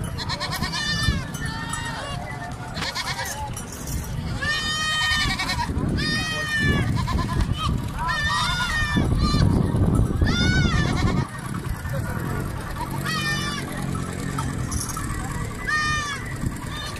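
Several goats bleat repeatedly on a farm in Dera Ghazi Khan, loud nearby calls overlapping one another, with background farm noise and someone speaking at times.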